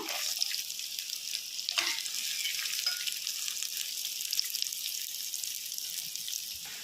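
Chopped small onions sautéing in a pan for Kerala fish curry give a continuous bright sizzle, steady and close, with a few soft stirring scrapes and no voices.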